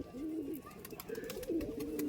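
Pigeon cooing close by, soft rolling coos repeated twice in quick succession over faint background noise; a trained village pigeon.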